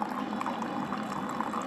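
A coffee maker brewing, its liquid streaming and gurgling steadily at low volume throughout, with no voices over it.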